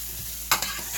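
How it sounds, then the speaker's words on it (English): Onion powder is stirred into pork chop gravy in a pan over a low sizzling hiss, with one short, close scrape of the utensil and a smaller follow-up scrape midway. "stir that in there"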